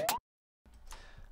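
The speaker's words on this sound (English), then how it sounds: "This is just a snare, and then I've automated the pitch so it goes up." A short snare burst with a quickly rising pitch, then silence, followed by a busier run of drum hits and tones.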